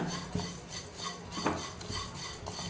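Dry flattened rice (aval) shuffled and stirred while dry roasting in a pan, a soft continuous rasping scrape with a few light clinks of a utensil against metal.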